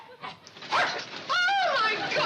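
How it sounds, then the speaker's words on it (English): A dog whimpers and yips close by in a short run of high, whining cries that rise and bend in pitch, with voices mixed in. "Where's the dog?"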